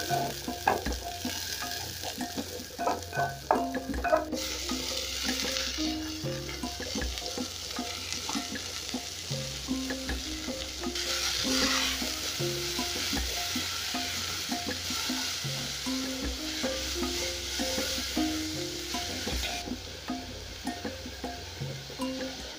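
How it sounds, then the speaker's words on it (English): Spring onion frying in about a tablespoon of hot cooking oil before spinach goes in, a steady close sizzle with occasional utensil clinks and stirring throughout, no talking. "Once that is hot, I'll go in with some spring onion."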